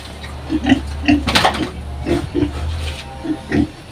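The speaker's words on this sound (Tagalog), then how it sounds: "yung aming isang baboy na inahin" A sow on a farm gives several short grunts and oinks spaced through the clip, close and fairly loud, over a steady low background hum.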